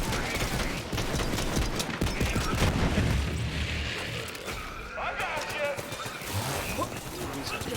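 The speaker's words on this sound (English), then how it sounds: "He's shooting more laser things" Enemy laser weapons firing in Borderlands 3 during a busy firefight, with rapid zapping shots and booms layered densely under a player talking throughout.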